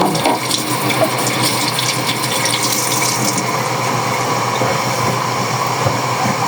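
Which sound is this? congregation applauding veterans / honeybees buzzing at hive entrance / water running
water running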